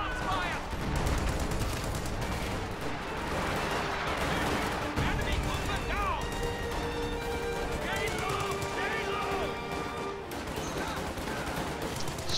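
Artillery barrages and scattered gunfire pound away in a WWII real-time strategy match, with a steady run of booms and crackling shots mixed with game effects while a commentator talks over the action.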